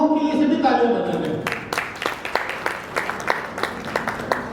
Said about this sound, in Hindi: उनको कहूंगा वो उनके लिए सभी तालियां बजाएंगे